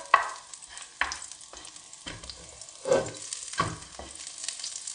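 Garlic frying in a small amount of oil in a pan, a steady soft sizzle with several sharp scraping stir strokes spaced about a second apart, close and moderately loud with no talking.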